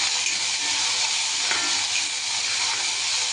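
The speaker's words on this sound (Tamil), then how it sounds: "கல் உப்பு சேர்த்து கொஞ்சம் நல்லா வதக்கணும்." Tomatoes, onions and garlic sautéing with rock salt for an okra tamarind curry, a loud, continuous close sizzle and hiss of frying with faint stirring, no talk.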